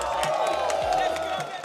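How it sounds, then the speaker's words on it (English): An esports arena crowd at ESL One Kuala Lumpur 2023 cheers and claps in a short, loud, continuous swell with whoops mixed in. "Another round of applause for a BetBoom team"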